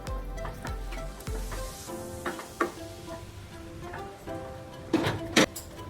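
Potol posto being stirred in a pan over medium heat, a continuous soft sizzle with scattered scraping clicks and a few louder knocks of the spatula near the end.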